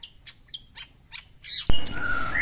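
A caged long-tailed shrike gives a series of about six short, sharp chirps at an even pace, followed by a sudden louder, harsher burst of sound at the end.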